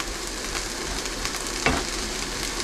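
Sausage and pasta frying together in a pan aboard a narrowboat give a soft, steady sizzle with a brief thump partway through.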